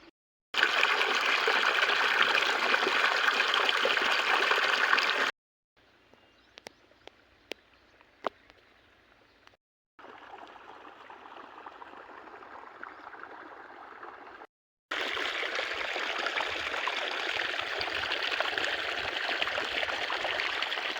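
Irrigation water runs steadily through a cotton field, a continuous close rushing and trickling that drops to a faint flow in the middle before swelling back to a full gush.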